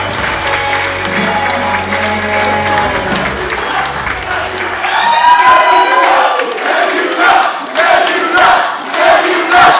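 A wrestling crowd at a championship match roars and applauds loudly and continuously, with shouts, whistles and dense clapping filling the arena throughout.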